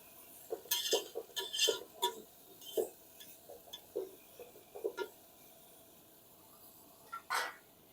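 A utensil knocks and scrapes against a pot while food is stirred and mixed over a wood-fired stove, a run of irregular clinks and taps that pauses, then returns with one last clink, with no voices.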